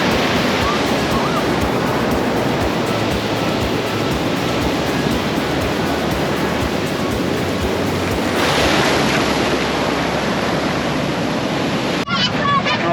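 Ocean waves washing onto the beach at Cockle Creek, Tasmania, a continuous loud surf roar with wind buffeting the microphone and a louder surge partway through.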